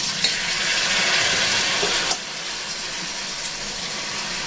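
Soaked rice fries in oil in a kadai, giving a steady, fairly loud hiss and sizzle with a brief clatter of stirring partway through, with no voices present.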